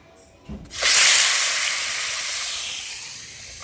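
Very hot cooking oil in a pan erupts into a loud, sudden sizzle after a brief soft knock, then settles into a steady, bright hiss that slowly eases off.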